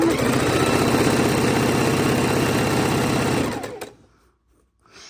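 A Singer Heavy Duty sewing machine stitches quilt border strips, its close, loud, rapid rhythmic whir running steadily for about three and a half seconds before winding down to quiet.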